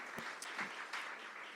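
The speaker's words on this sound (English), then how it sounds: "Let's give them a round of applause, please." Scattered applause from a town hall audience at a county budget meeting, faint and distant, with a few louder claps standing out over a soft, even patter.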